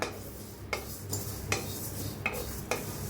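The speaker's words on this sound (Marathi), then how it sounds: "आता बडीशिप बी भाजून घेऊया जास्त नाही भाजायचं हलकसच भाजायचं" Fennel seeds dry roasting lightly in a pan for mango pickle, with a spoon stirring and scraping them in several soft, evenly spaced strokes over a low background hiss, and no talk.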